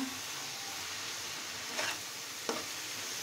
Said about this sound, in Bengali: আমি এই যে সুন্দর মতো এখন ভাজিটা ভেজে নিচ্ছি